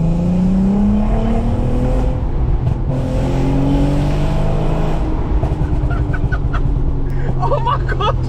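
An Audi A3 3.2 Quattro 8P's engine revs loudly while driving with the window down, its pitch rising and falling through gear changes with a steady low rumble, and a voice exclaims near the end.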